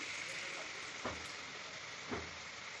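Carrots and eggs fry in a pan for vegetarian khichuri, a steady broadband sizzle with two soft clinks of a spatula against the pan, no one talking.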